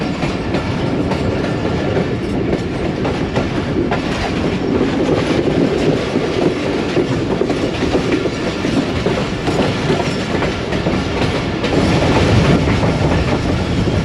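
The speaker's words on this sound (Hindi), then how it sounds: "दोस्तों आहिस्ता आहिस्ता ट्रेन हमारी रावलपिंडी इस्लामाबाद शहर को पीछे छोड़ते हुए अपनी मंजिल की जानिब बढ़ रही है" The Rehman Baba Express rolls out of Rawalpindi toward Islamabad, heard from on board as a steady, loud rumble with rhythmic clickety-clack of wheels over rail joints, continuous and without voices.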